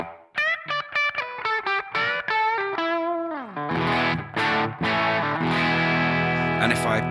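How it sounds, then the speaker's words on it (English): Electric guitar run through a ToneX pedal and a BOSS GT-1000 with room reverb and distortion, played as a run of plucked notes and then sustained chords that ring out and blend into a reverberant wash. "Now we've got a bit of room reverb on."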